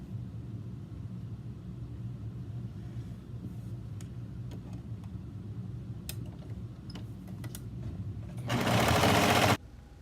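A sewing machine stitching the shoulder seams of a relaxed peplum top bodice hums steadily at low pitch, with light ticks scattered through it, and then revs into a louder, faster run for about a second near the end.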